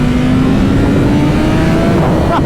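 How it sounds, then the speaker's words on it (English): A BMW M 1000 RR superbike engine held at full throttle, a loud, close, continuous high-revving roar with a steadily rising whine and no talk over it. "Here's full throttle again."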